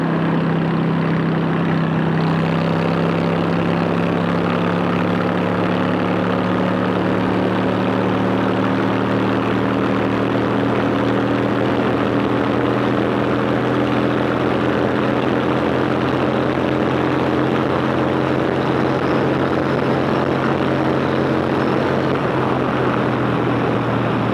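Steady droning straight-pipe exhaust of a Honda Shadow Phantom motorcycle with a buzzy, raspy tone, holding near-constant pitch with a slow rise, loud and close, no talking.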